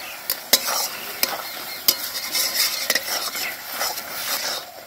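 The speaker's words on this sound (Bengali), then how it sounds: "একটু আমি নেড়ে নিলাম" Deshi chicken curry being stirred in a frying pan, with sharp utensil scrapes and clinks over a steady, close sizzle; no one speaks.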